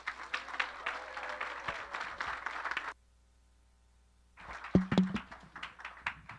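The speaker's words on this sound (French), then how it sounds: "Est-ce qu'on peut accueillir et applaudir notre prédicatrice qui va aussi être le maître de cérémonie pour le restant de la réunion?" Church congregation applauding to welcome the woman preacher at a Christmas-season service, a dense burst of clapping for about three seconds, a short silence, then renewed clapping with a few sharp thumps.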